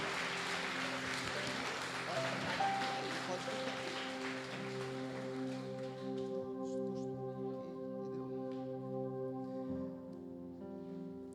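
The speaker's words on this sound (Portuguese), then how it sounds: "Dá um forte aplauso ao Senhor dos Senhores" Church congregation applauding, a broad wash of clapping that gradually thins and fades while sustained organ or keyboard chords ring underneath and continue alone toward the end.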